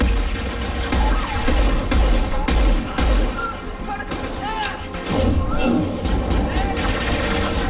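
A grenade blast and rapid gunfire in the video game Mass Effect 2, with loud thumping explosions and crackling bursts of shots packed close together, a voice shouting among the combat.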